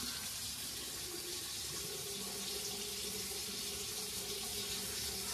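Warm water pours steadily from a tap into a sink as a soft, even hiss that stays constant and fairly quiet throughout, with no voices over it.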